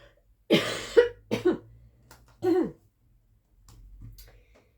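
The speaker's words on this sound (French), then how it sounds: "je vous garantis que j'en ai marre de tousser toute la journée" A run of harsh, close coughs in quick bursts, then a softer cough and some quiet throat noises.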